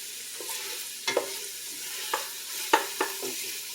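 Onions stirred in a pan for stuffed bell pepper soup, the spoon scraping browned fond off the bottom in several sharp strokes over a quiet sizzle.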